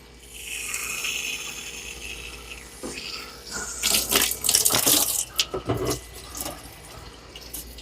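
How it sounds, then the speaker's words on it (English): Tap water pours into the tank of an ICE USA i15B carpet cleaner, splashing and gurgling in uneven bursts that grow louder as the tank fills. "You will add your cleaning solution, fill it up a little bit, add cleaning solution."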